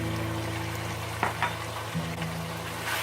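Chili flakes, coriander powder and cumin powder sizzle in oil for chicken ginger, giving a steady, close frying crackle with a couple of soft stirring knocks and no one talking.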